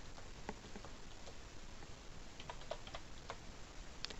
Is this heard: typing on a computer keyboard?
yes